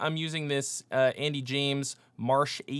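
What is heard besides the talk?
No distinct noise like a dog, phone or traffic.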